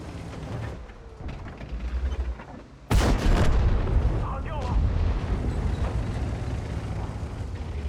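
In the World of Tanks game, a sharp, loud tank cannon blast cracks out midway, followed by rumbling echo and lingering battle noise, with someone talking over it.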